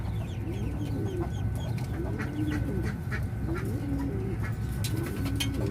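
Farm ducks quack and cluck steadily while they are fed corn and soya, a dense, continuous chorus of calls heard up close with no talking.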